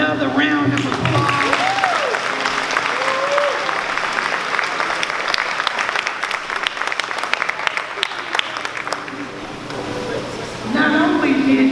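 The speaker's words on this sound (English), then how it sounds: "another round of applause" Sustained audience applause for a guest speaker at a leadership lecture series, dense clapping filling the room throughout, slightly thinning then swelling again near the end, with voices and cheers mixed in.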